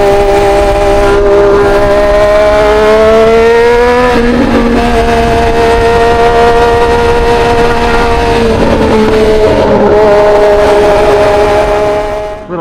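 A Triumph Street Triple motorcycle engine drones loudly and close while riding on a highway, its steady tone rising and dipping with uneven, choppy throttle changes at low revs.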